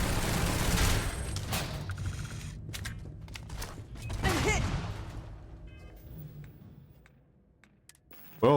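Gunfire in the space game Starfield: dense fusillades and rapid machine-gun bursts with mechanical clatter and whooshes, tapering off into quieter stretches before a sharp loud burst at the very end.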